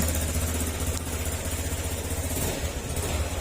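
A Honda Click 150 scooter engine idles close by with a steady, even mechanical putter and clatter, running continuously at a constant level.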